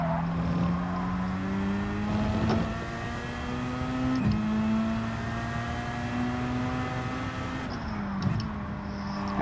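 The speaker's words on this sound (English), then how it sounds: "Corvette's on the move." A Corvette race car in Gran Turismo 7 holds a steady, loud engine drone, with brief dips that sound like gear shifts at a few points before the revs climb again.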